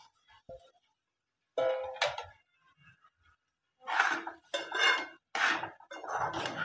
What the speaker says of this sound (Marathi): असं मंद गॅसवरती आपण भाजून घेऊ